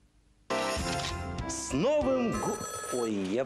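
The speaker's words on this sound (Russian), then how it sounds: "Я, по-моему, забыл телефон отключить." A telephone rings loudly and continuously right up close, its bright trilling tone starting abruptly and carrying on while a voice speaks over it.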